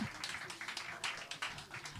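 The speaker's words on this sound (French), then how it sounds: "On les applaudit très très fort, s'il vous plaît." A small audience at an intimate concert claps for a performing duo, the scattered hand claps faint and soft and coming in light, uneven bursts.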